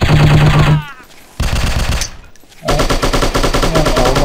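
Bursts of rapid automatic gunfire from the Striker shooting video game, loud and close, broken by short pauses between volleys.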